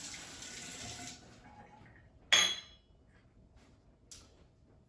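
A quarter cup of water runs into a mixing pot for homemade pecan brittle, a short faint pour followed by quiet, then a sharp clink and a softer knock.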